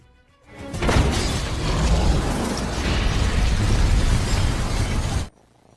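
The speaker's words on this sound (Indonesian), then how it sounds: "Jen pun langsung menghitung mundur untuk meledakkan lift tersebut" A film explosion blows up an elevator with a sudden burst that swells into a long, loud roar of blast and shattering debris, then cuts off abruptly.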